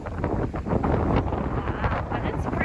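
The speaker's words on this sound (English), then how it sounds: "Oh my gosh, it's so windy." Strong wind on a cold day at a beach in Malaga buffets the microphone in a loud, continuous roar with rough gusting swells.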